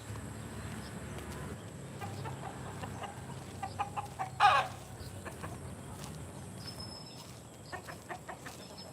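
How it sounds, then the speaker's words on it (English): Chickens cluck and a rooster calls out in the distance in the Philippines, with one louder burst midway amid outdoor ambience. "And then you have the roosters."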